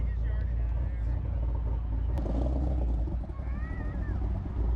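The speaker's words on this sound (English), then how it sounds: "That chop in the distance is the Corvette" A Corvette engine idling choppily in the distance at a cars-and-coffee meet at a BMW dealership, a faint uneven low rumble under background murmur and nearby voices.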